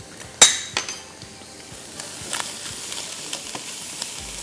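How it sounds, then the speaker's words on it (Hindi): Vegetables stir-fry quickly with soy sauce and chopped ginger and garlic, a steady close sizzle broken by a sharp clank and several lighter metallic scrapes of a utensil against the pan. "फिर मैं हर चीज़ जल्दी जल्दी झटपट स्टर फ्राई कर दूंगी।"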